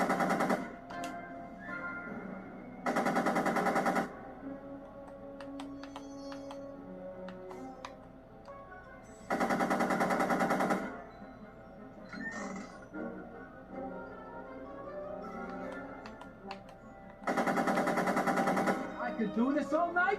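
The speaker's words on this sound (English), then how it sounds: "Are you shooting at me?" Bursts of rapid gunfire crackle in a Back to the Future video game. Three loud volleys of a second or more come at intervals, with game ambience and character voices between them.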